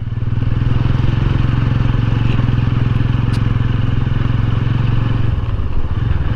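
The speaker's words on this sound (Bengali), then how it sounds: "জঙ্গলের মধ্যে শুধুমাত্র আমি একা এই বাইক রাইড করে যাচ্ছি।" A motorcycle rides alone along a forest road near Pata Pahar in Purulia, its engine a loud, close, even drone with a steady thrumming pulse throughout and no voices.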